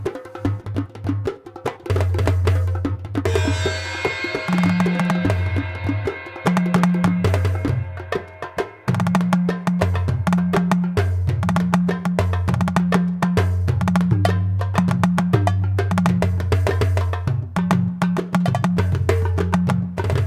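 Loops and Indian-style instrument sounds from the Kit of India on an Alesis Strike Multipad electronic percussion pad, a dense rhythmic groove with a repeating bass line and bright melodic layers, loud and continuous with a brief pause midway.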